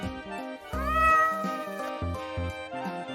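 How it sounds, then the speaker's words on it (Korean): A cat meows close by in a quick series of short, tonal calls with one longer, rising meow near the start, then several brief mews after it, with no talking. "야옹이 보고 들어갈게요"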